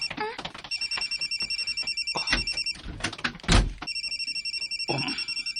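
A telephone rings indoors in repeated electronic bursts, with a gap in the middle. A few dull thumps and knocks sound in between the rings.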